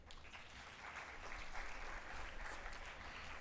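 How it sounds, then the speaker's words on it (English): Sustained audience applause at a hackathon felicitation ceremony, a dense, steady wash of many hands clapping at fairly even loudness throughout, with no voices standing out. "Can we please keep the applause going?"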